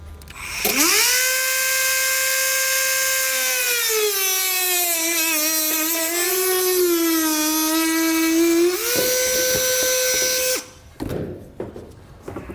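A Dremel rotary tool cuts into a 2022 Volkswagen bumper panel, a loud, high, steady whine that dips slightly under load for about ten seconds, then stops abruptly, followed by brief handling noises.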